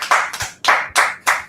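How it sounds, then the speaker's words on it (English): A class claps in unison: five sharp, close claps land in a slightly uneven rhythm, each a crisp burst followed by a short gap of near-silence. "So we'll finish this off and clap it up."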